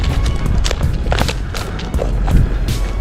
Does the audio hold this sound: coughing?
no